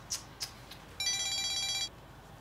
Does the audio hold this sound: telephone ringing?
yes